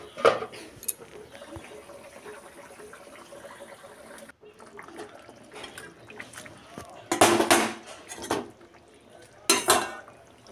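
Fried fish pieces going into a pan of cauliflower fish curry, with clattering pot and utensil noises, two louder bursts of sizzling and scraping near the end, and a voice talking over it.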